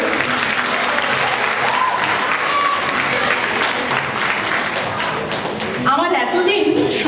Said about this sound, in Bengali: ওদের জন্য অবশ্যই প্রাপ্য একটা হাততালি